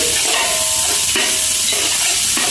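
Onions frying in a pan for biryani, a steady loud sizzle with occasional stirring scrapes, no voices.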